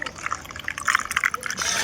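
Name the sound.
water being poured into a container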